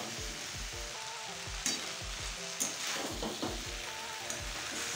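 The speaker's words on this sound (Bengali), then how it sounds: "বারবারই কিন্তু ঢাকনা খুলে খুলে এভাবে নেড়ে নিতে হবে।" Mixed vegetable curry cooking on a low flame in a covered pan is stirred with a utensil, giving repeated scraping strokes against a steady soft sizzle, with a few louder knocks of spoon or lid.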